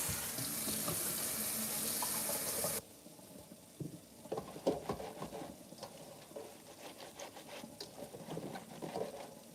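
Cold tap water runs hard into a sink over cut greens for a few seconds, then stops, leaving wet rubbing and handling noises of the greens being washed, close by with no talking.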